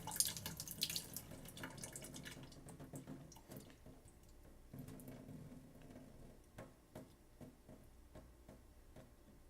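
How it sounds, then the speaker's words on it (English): Water drains out of a bowl of pomegranate seeds with a faint, close trickle and scattered small drips and ticks. No one speaks over it. "Drain that little bit of water out."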